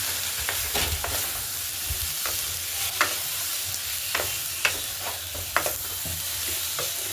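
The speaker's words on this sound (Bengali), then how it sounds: "তারপরে এক চামচ হলুদ গুঁড়ো দিয়ে দেবো দিয়ে মশলাটা ভালো করে কষিয়ে নেবো" Spice masala with coriander and turmeric powder being sautéed in a pan for a Bengali tengra fish curry: steady soft sizzle with repeated scraping stir strokes and a few sharp spoon clicks, close and alone.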